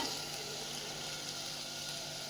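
Finely chopped tomato and mixed vegetables for pulao fry in a pan, a steady, quiet hiss of sizzling held evenly throughout with no talk over it.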